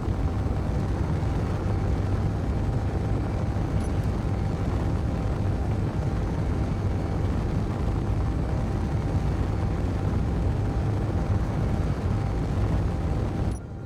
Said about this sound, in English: it is loud inside the engine there. Or the cockpit or whatever.